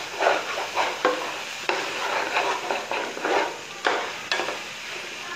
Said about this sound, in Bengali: পোলাও চালটা অনেক সুন্দর করে ভেজে নিব